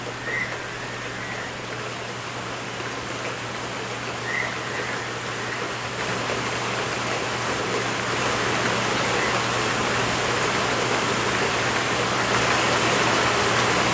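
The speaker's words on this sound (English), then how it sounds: "thank you, Jesus, for the rain" Steady rain pours down in a continuous hiss that grows slightly louder over time, with a low constant hum beneath it and two faint chirps early on.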